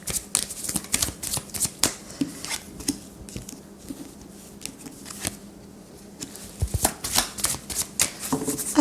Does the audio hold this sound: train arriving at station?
no